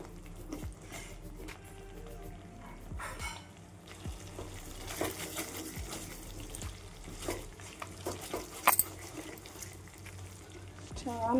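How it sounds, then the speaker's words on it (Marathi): Onion sautéing and being stirred in hot oil in a pan for a spicy chana dal and bottle gourd curry, a steady soft sizzle with intermittent scraping of the spoon, faint and continuous throughout. "कांदा आपला भाजलेलाच आहे, पण तरी पण छान परतून घेऊ आपण."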